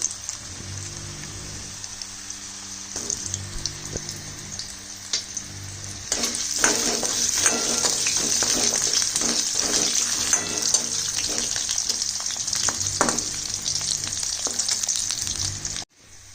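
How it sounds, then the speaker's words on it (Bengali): Potato pieces frying in a pan for a cauliflower-stem charchari, a quiet sizzle with light stirring that swells into a louder, crackling fry from about six seconds on, with repeated spatula scrapes, then stops abruptly. "তারপরে আমি দিয়ে দেবো এতে আলুর টুকরো কাটা আলুটা একটু নাড়াচাড়া করে নেবো"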